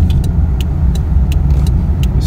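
A steady low roar from a moving car with a bad tire or wheel bearing, a helicopter-like rumble of road and wheel noise and a few faint high clicks.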